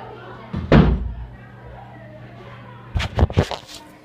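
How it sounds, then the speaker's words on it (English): A door being shut indoors: two loud thumping slams, the first near one second and a double knock-like pair about two seconds later, over a quiet room background. "I'm just going to shut the door."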